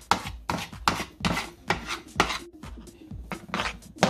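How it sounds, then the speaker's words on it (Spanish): Coloured sweet tamale dough being beaten by hand in a bowl, a close series of rhythmic wet slapping strokes repeating roughly twice a second, with no voices. "vamos a batir hasta que nos quede verde"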